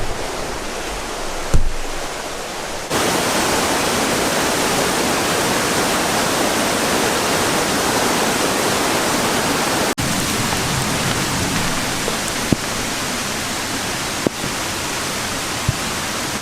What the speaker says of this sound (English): So the rain's starting to pick up a little bit.